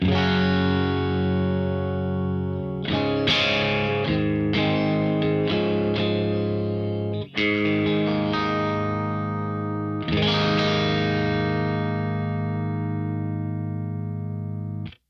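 An electric guitar plays sustained, ringing chords through a slightly overdriven pushed clean channel of an MZero Overdrive 100 amp, with a few restrikes and long decays.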